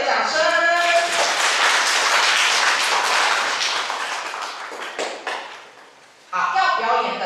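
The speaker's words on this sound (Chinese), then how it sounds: "让我们给予热烈的掌声" Audience applause at a stage performance: dense, sustained clapping that thins and fades after about five seconds, followed by a brief gap and then a voice.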